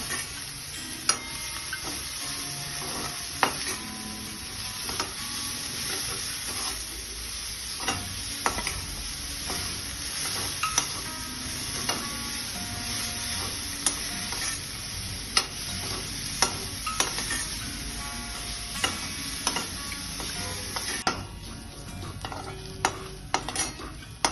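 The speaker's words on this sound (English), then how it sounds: "So we have kept it on high flame and we kept on mixing it so that it doesn't get burned." Onions frying over high flame in a pan for Gurudware-style dal, a continuous loud sizzle broken by repeated scraping stirs and light clinks of the spoon, close up with no talking.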